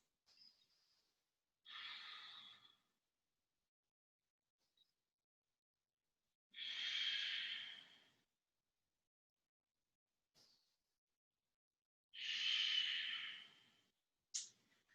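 A person in a vinyasa yoga forward fold breathes deeply and slowly. Three long, close, airy breaths come at even intervals, with near silence between them.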